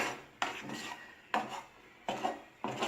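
A thick sweet mixture stirred in a pan while cooking a devotional offering, with a repeating scraping and rubbing of a utensil against the pan in steady strokes, close and without speech.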